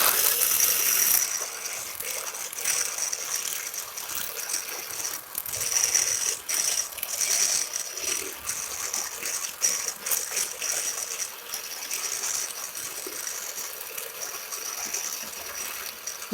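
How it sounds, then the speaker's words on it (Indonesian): An electric hand mixer whips Chocolatos chocolate drink for a dalgona cincau drink, giving a steady, loud, rattling mechanical whir that runs continuously and alone throughout. "Terus coklatosnya akan kita mixer."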